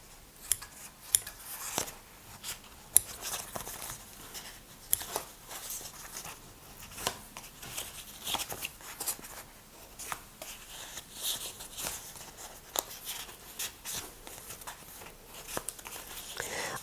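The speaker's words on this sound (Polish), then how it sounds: "I teraz wycinam nieco większy kwadrat." Scissors snip through a sheet of foamiran to cut out a square, a quiet run of repeated short crisp cuts at an irregular pace, close and fairly faint, with no talking over them.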